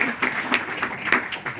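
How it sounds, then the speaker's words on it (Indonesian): Scattered handclaps ring out for the organizing committee at a religious maulid gathering, a few sharp, fairly close claps in an uneven rhythm over a short stretch. "Tepuk tangan buat panitia."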